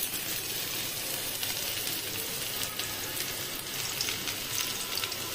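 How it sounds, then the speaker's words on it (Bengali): Ginger, garlic and other ingredients fry in hot oil over a high flame, giving a steady, fairly quiet crackling sizzle that runs evenly throughout with no voices. "একটু হাই ফ্লেমে রেখে ভাজবে"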